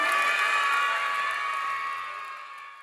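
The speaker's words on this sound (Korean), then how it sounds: "여러분 오늘 멋진 공연을 보여주신 어울림 예술단원에게 다시 한번 큰 박수와 힘찬 환성 부탁드립니다" Audience applause and cheering for a disability-inclusive arts troupe's performance, a loud continuous wash of crowd noise with raised voices that gradually tapers off.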